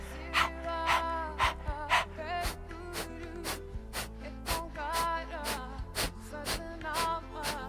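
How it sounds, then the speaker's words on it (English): Rapid breath-of-fire breathing in Kundalini yoga: quick, forceful nasal exhales pulse about twice a second, riding over steady pitched background music. "And there you are doing breath of fire"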